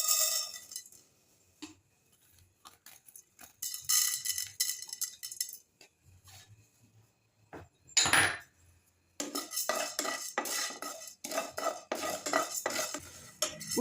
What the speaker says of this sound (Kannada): ಈಗ ನೆಕ್ಸ್ಟ್ ಉದ್ದಿನಬೇಳೆ ಫ್ರೈ ಮಾಡ್ಕೊಳ್ಳೋಣ.